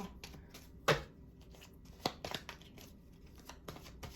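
Tarot cards are shuffled and drawn from a deck at close range, giving soft papery flicks and snaps in short irregular bursts over quiet room tone.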